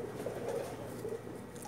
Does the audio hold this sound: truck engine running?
no